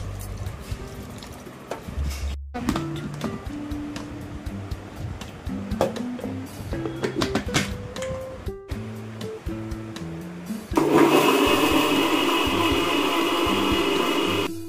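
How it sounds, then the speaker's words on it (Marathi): A kitchen mixer grinder blends mango pulp with sugar, water and cardamom powder for aamras, a loud steady whir that starts abruptly late on after scattered clinks and handling noises. "इलायची पावडर, एकदा ग्राइंड करून घ्यायचं"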